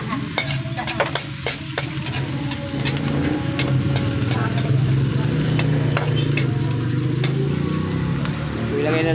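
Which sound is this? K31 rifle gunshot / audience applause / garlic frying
garlic frying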